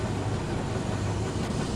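Railhead treatment train in Train Sim World 3, its generator engines giving a steady, dense low rumble and hiss throughout a brief two-second stretch, close and unchanging, without any speech.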